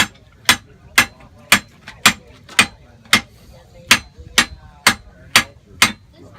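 Hammer blows forge-weld heated iron pieces at a muzzleloader gun makers fair, a long run of about a dozen crisp ringing strikes at an even, brisk pace, close and prominent over a quiet background.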